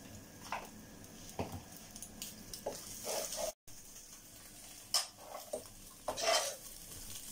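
Egg fry with pepper and salt stirred in a pan for fried rice, soft sizzling under intermittent spoon scrapes and light clinks against the pan, fairly quiet, with no talking.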